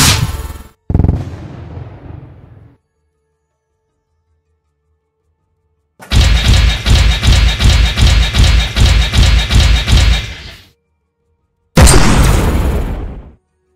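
Loud video-game gunfire in PixelMek as a Bushwacker mech is shot: a burst of blasts, a long rapid rhythmic volley of shots, then a final heavy burst, with silent gaps between and no talking.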